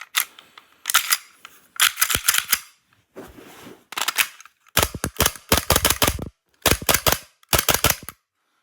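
A Tokyo Marui Glock 17 airsoft pistol with a steel slide is fired in rapid bursts, each shot a sharp snapping crack as the slide cycles, grouped in clusters of two to four with short pauses, close and loud.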